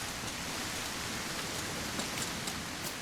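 Steady rain hisses in the God Save Birmingham video game, a dense, even patter with faint scattered drop ticks and no voices.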